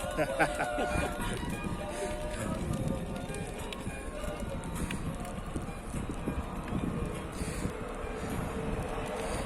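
Gusty wind buffets the microphone in a constant rumbling roar, with muffled voices and movement noise underneath, on the road from Al Nakheel to the Jebel Jais viewing deck, Ras al Khaimah, UAE.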